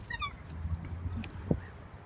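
Ducks being fed bread at a pond give a few short honking calls, one louder squawk standing out over faint background murmur.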